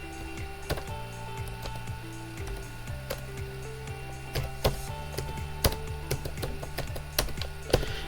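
Someone types a 13-digit Pakistani ID card number on a computer keyboard: a steady run of irregular key clicks over a constant electrical hum, with no voices.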